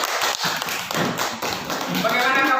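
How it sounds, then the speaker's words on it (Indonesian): Classroom of vocational school students clapping together, a dense, steady patter of many hands that fills the whole moment, with some voices mixed in. "Oke, tepuk tangan"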